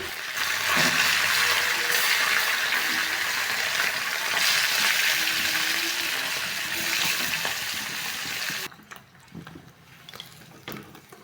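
Suda fish sizzling as it fries in hot oil for a fish fry, a steady loud hiss running for about nine seconds before dropping to a quieter crackle with faint clatter.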